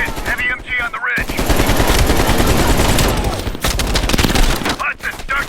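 Heavy machine gun fire in Call of Duty Black Ops Cold War, a loud sustained burst of rapid shots from an emplacement on a ridge, with short pauses and a voice speaking briefly at the start and end.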